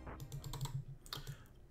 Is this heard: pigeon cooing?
no